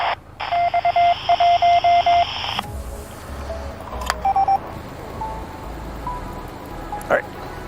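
A ham radio receiver puts out beeping tone bursts while the antenna swivels during direction-finding, with a loud run of rapid pulsed beeps that stops, then fainter, weaker bursts over static and a voice talking.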